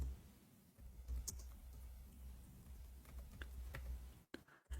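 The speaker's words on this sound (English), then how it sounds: "I'm typing in Arabic." Quiet keystrokes tap irregularly on a computer keyboard while someone types in Arabic, soft clicks over a low room hum, ending with a few louder knocks.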